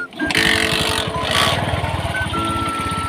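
An old junkyard motorcycle engine, tried with the choke, sputters to life and settles into a loud, rapid, uneven chugging idle close by.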